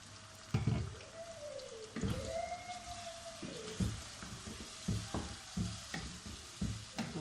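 Chicken frying with onions, spices and paste in a pan, a soft steady sizzle broken by scraping stirs and occasional clanks of a utensil.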